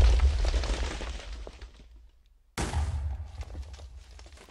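TNT cannon blasts in Minecraft, built from dispensers as a reloadable cannon: loud, close booming explosions, with a heavy rumbling burst at the start, a brief silence, then another abrupt blast that trails off.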